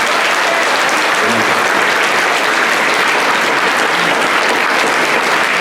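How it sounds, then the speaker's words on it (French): Audience at a celebration with live musicians applauding, loud, dense continuous clapping filling the whole stretch without pause. "on nous applaudit"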